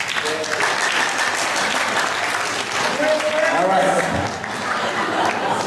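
Workshop audience at a District 89 Macao conference clapping in a sustained, dense burst to vote for a team, with a voice speaking briefly over the applause.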